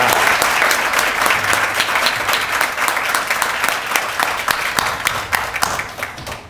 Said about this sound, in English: how about one strong applause for these men right here?